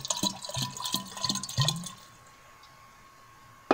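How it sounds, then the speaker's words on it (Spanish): Water poured from a container onto coarse sea salt, a splashing, gurgling stream for about two seconds with soft rhythmic glugs, then quiet, ending in a brief sharp clink. "agregarle 1 litro de agua, más o menos el agua isotópica"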